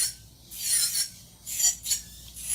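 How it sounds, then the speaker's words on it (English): Circular nail drill bit smoothing a peach gel nail surface, a soft abrasive rasping whir that swells and fades in several passes, close and fairly quiet with no talk. "Slowly working in circular motion because my drill bit is a circular drill bit."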